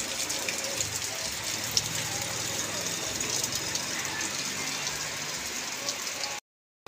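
Steady rain falls outdoors after a spell of grass cutting, a dense, continuous hiss with no breaks, fairly loud and close, running alone without talk before cutting off briefly near the end.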